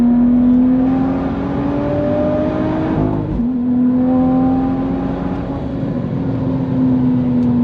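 A big-turbo BMW 440i with no-lift-shift tuning accelerates hard, its engine note climbing, cutting briefly at a quick gear change, then climbing again, loud and close with no talk.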